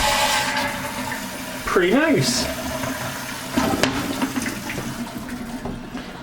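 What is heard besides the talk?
Sloan Flushmate pressure-assist toilet flushing and refilling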